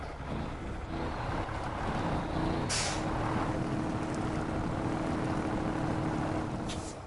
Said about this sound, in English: you can hear the diesel, the turbo in there wind up